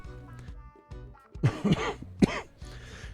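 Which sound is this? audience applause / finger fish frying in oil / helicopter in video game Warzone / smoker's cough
smoker's cough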